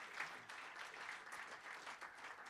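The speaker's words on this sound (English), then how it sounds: "So let's give him a round of applause." Quiet, distant-sounding applause from a lecture audience honoring a speaker, a soft steady patter of many hands with no talking over it.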